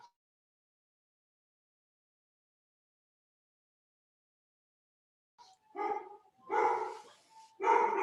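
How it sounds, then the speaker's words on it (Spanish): A female dog at home breaks the silence with three loud, close barks in quick succession after several seconds of quiet. "Perdón que se alborotó mi perra."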